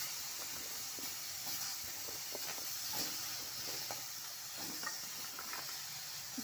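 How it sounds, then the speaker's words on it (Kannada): Onion and tomato frying in a pan for an avarekai sambar give a steady, close sizzling hiss with faint crackles that runs unbroken throughout and has no talking over it. "ಈಗ ಇದಿಷ್ಟು ನೀಟಾಗಿ ಫ್ರೈ ಮಾಡ್ಕೋಬೇಕಾಗುತ್ತೆ"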